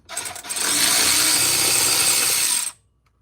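A power tool, likely an impact wrench, loosens a transmission support bolt on a 2007-2010 BMW M6, running as one loud, steady burst of about two seconds with a brief rattle at the start, then stopping abruptly.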